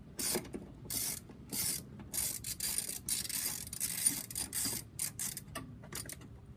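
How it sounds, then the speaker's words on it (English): A ratchet wrench loosening a 10mm nut in the engine bay of a 2005 Hyundai Accent during an intake install, with repeated bursts of close, sharp clicking separated by short pauses. "I'm going to loosen that one up, pop off the nut."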